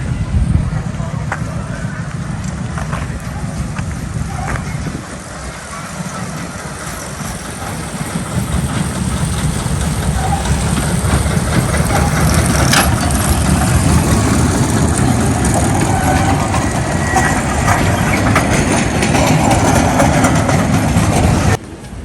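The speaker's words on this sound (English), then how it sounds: "We have the train coming by." A heavy rumbling engine drones steadily in Vienna, swelling louder partway through as a train passes close by, with faint voices in the background.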